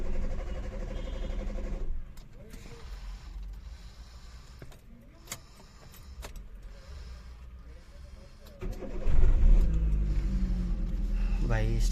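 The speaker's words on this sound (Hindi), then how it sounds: "देख लो भाई स्टार्ट हो गई अपनी गाड़ी" A Hyundai Santro Xing with a newly replaced fuel pump motor cranks with mechanical clicks and creaks, then fires and revs up loudly near the end, with someone talking over parts of it.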